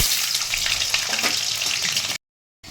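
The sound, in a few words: potatoes frying in oil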